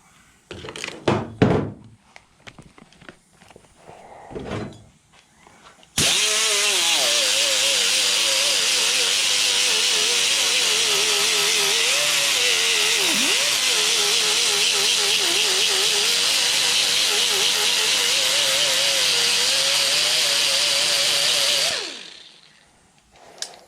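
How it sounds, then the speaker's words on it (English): A power grinder works a metal turbo housing, opening with a few clunks and handling noises before starting a loud, steady, hissing grind. It holds for about sixteen seconds with the pitch wavering as it bears on the metal, then spins down to silence. "You're looking to grind it not flat like it was, but grind it to match this curve again."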